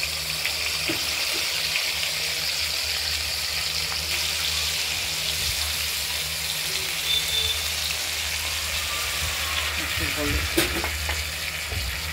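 Ground spice paste fries with browned potatoes and tomato for a paneer-fritter and potato curry, giving a continuous close sizzle and crackle with faint stirring and no voices.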